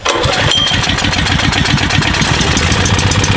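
A small-engine generator running steadily, a loud close chugging drone with a regular rapid pulse and no pauses, alone without talk.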